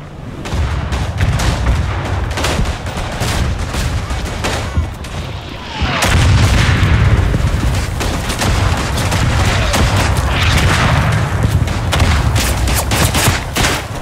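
Loud, dense artillery fire and rolling gunfire fill a WWI battle in the video game Verdun on the Argonne map, with booms and crackling shots running continuously without a pause.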